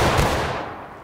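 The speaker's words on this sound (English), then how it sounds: "Take aim! Aiming at that flag, gentlemen! Fire!" A volley of rifles fired together at a flag target gives one loud, close blast that booms and rolls away over about a second.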